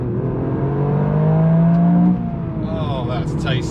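Toyota GR Yaris with a 1.6 litre three-cylinder turbocharged engine accelerating hard, a loud rising engine note climbing for about two seconds, then dropping away as the throttle lifts.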